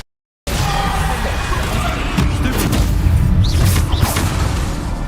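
A Bombarda spell explodes in the video game Hogwarts Legacy, a loud, dense blast with rumbling combat noise that carries on continuously after an abrupt start.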